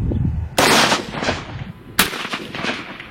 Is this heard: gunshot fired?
yes